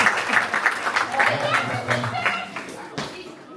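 Mixed with voices, a crowd at a revolution-themed presentation claps in a short, uneven burst that tapers off toward the end.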